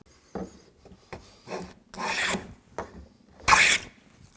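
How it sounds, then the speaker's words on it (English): Wood for a jewelry box is sanded by hand to clean up burn marks before glue-up, in a series of rasping strokes, some short and some drawn out, close up with no talking. "now I can clean up some of the burn marks and start sanding this piece"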